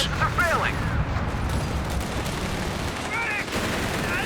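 Anti-tank gun shots with rapid gunfire and explosions in the World War II strategy game Company of Heroes 3, a dense loud battle din with whistling shell sounds near the start and again later.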